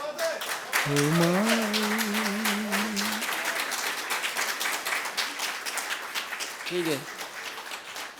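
Audience applause at an Urdu poetry recital (mushaira), a broad steady wash of clapping under a voice speaking briefly at the start and again near the end.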